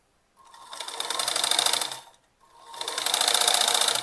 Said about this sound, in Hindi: अब मैं उसी में से बैक ले लूँगी, फिर नीचे से ही सिलाई को ये